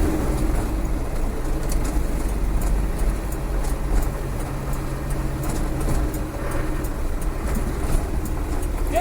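A rebuilt Land Rover 300Tdi diesel engine drones steadily on a road test, heard from inside the vehicle as a continuous low rumble with road and cabin noise, no talking.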